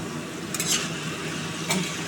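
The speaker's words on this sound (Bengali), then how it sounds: "মশলাটা কষিয়ে" Spice masala is sautéed for a jackfruit curry, a soft steady sizzle in the pan broken by two brief scraping strokes of a spoon, close and without talk.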